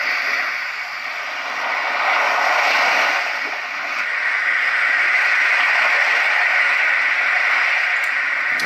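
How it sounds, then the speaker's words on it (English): A Roffie white noise sound machine plays its sandy-beach setting of medium-sized waves: a steady, loud hiss of surf that gently swells and recedes in slow surges, heard alone without voices. "So another one that's like the waves on a sandy beach, is what it sounds like."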